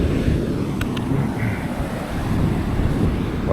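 Atlantic Ocean surf and wind at a beach in Melbourne, Florida: a steady, loud wash of breaking waves with heavy gusts buffeting the microphone throughout, no talking.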